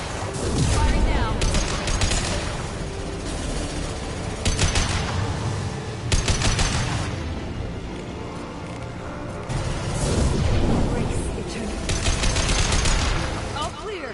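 Gunfire in the video game Mass Effect 2 comes as loud, rapid bursts in several heavy waves with brief lulls between them, and voices are heard during the firing.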